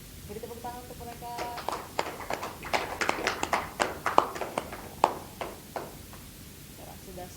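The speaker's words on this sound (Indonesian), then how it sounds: "Beri tepuk tangan untuk mereka." Wedding guests clap for a newly married couple, scattered sharp handclaps building in the middle and thinning out, fairly close with background chatter and a voice at the start.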